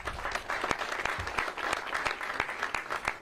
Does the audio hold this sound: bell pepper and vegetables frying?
no